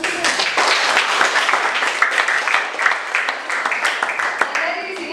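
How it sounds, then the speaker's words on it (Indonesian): Classroom applause during a lesson-study session, dense steady clapping from a group filling the whole stretch with loud, even energy, mixed with voices talking over it. "Oke, tepuk tangan."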